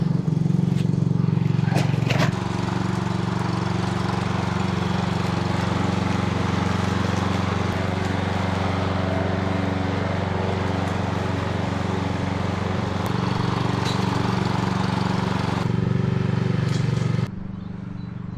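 A ride-on lawn mower runs steadily for the whole stretch outdoors among trees on a spring morning, its engine drone loud and close with little change until it drops off near the end.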